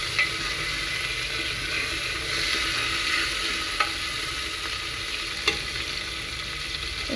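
Tomatoes and cumin sizzling in a pan while being stirred, an even close frying hiss with a few sharp utensil taps against the pan, no voices.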